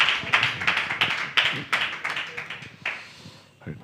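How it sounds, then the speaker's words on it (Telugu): A congregation at a Friday worship service in Doha, Qatar claps to welcome a speaker. Brisk, fairly close hand claps come in an uneven burst and gradually thin out until a last few scattered claps remain. "వారు వచ్చి ఒకసారి చప్పట్లు కొట్టి వారిని ఆహ్వానిద్దాము అన్నారండి"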